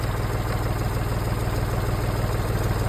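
An old tractor engine, around twenty years older than the one it replaced, runs at a steady idle with an even low chugging throb, close and continuous.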